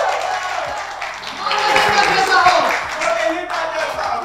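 An audience claps together in a room, a short burst that rises, peaks midway and tapers off, with voices talking over it.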